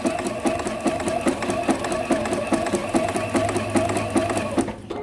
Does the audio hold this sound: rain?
no